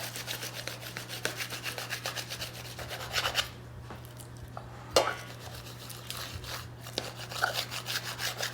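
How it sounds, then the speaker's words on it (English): A serrated knife saws through homemade Albanian cheese burek (pite me djath), giving steady close rasping and rubbing strokes with a few brief scraping accents against a plate or board, over a low steady hum. "go ahead and cut it with a serrated knife"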